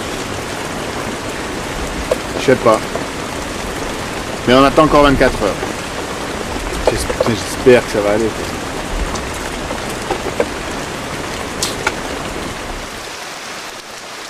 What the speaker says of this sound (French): Hier il a plu, aujourd'hui il pleut